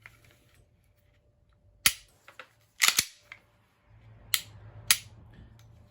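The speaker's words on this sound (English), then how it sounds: "It's a Glock trigger" A new Glock 19 Gen 5 pistol's trigger is pulled, giving sharp, isolated mechanical clicks in small groups, some single and some in quick pairs, close and crisp against a quiet room.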